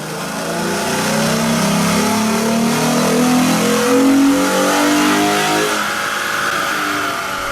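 A 2011 Ford Mustang V6 fitted with a BBK X-pipe, on stock tune and stock mufflers, revs hard on a dyno, the engine note climbing steadily in a loud, close, continuous pull before easing off near the end.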